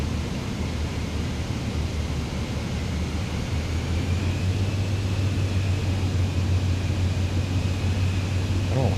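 Airplane engine in Microsoft Flight Simulator 2020 on a flight from Peru to Bolivia, a continuous low droning hum with steady broadband rush, holding at even loudness and rising slightly in pitch partway through.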